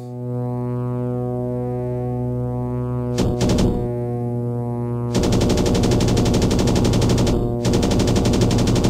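Machine gun fire in a flight combat video game set over Europe: a steady droning aircraft engine tone, then a short burst of rapid fire and later long sustained automatic bursts, loud and continuous with no talking.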